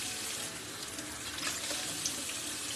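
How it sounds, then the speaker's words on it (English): Tap water runs steadily over butter lettuce being rinsed in a kitchen sink, a continuous close splashing hiss with no talking. "So I'm using butter lettuce for this. I'm gonna give this a quick rinse off."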